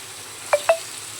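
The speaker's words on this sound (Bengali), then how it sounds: "পনিরটাকে প্রথমেই ফ্রাই করে নিচ্ছি।" Paneer frying in a hot kadai: two quick, close sizzling crackles about a sixth of a second apart over a quiet low background hum.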